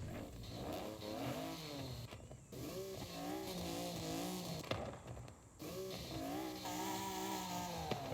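A 1992 Honda NSX-R twin-turbo drift build in Forza Horizon 5 revs repeatedly, its exhaust rising and falling in several throttle blips with brief cutoffs, loud and alone without talking.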